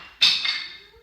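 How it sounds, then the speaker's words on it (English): A single sharp clack of wooden blocks knocking together rings out close by and quickly fades. "my son is playing rather loudly with some wooden blocks."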